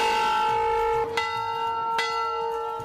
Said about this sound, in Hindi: आज यहाँ नीप करोरी में एक बड़ा मंदिर प्रांगण है, जहां भक्तों का स्वागत एक बड़ा घंटा करता है।